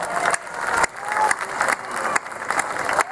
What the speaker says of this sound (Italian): Applaudetevi, forte però, eh?